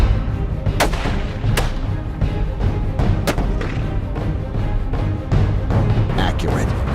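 Gunshots in a Hornady ammunition advertisement ring out as several sharp reports spaced over a low, rumbling background. A voice is faintly present.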